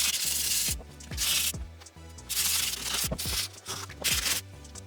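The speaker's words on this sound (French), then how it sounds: "Pour peindre la fourche, je vais commencer par poncer." Hand sanding of a moped's front fork before painting, rough rhythmic rubbing strokes in repeated bursts with brief pauses between them, close and fairly quiet.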